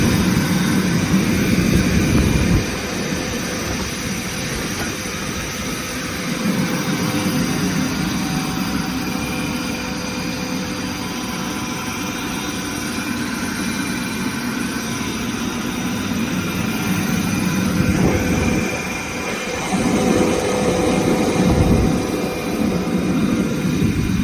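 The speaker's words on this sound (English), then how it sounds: "So we will start this compressor and see how it builds pressure." KAESER screw air compressor starting up and building pressure to 10 bars, a loud, steady roaring whir with a low rumble that shifts slightly in tone, heard close with no talk.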